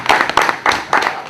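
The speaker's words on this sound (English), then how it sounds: "I was thinking we would have a round of applause." A few people clap in loose, distinct bursts inside a hall at a football association sponsorship launch, the individual hand strikes audible in uneven clusters rather than a full ovation.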